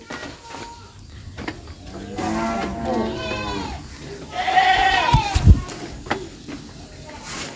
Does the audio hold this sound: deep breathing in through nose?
no